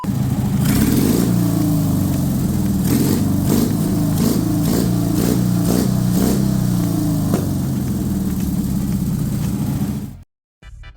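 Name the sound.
modified lawn mower engine running after carburetor adjustment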